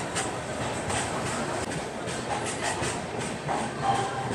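Chennai Duronto Express train running on rails, a steady broadband rumble with faint rhythmic clatter, heard from on board and continuous throughout.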